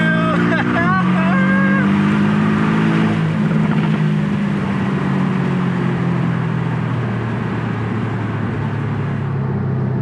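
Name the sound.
Porsche 718 S Boxster accelerating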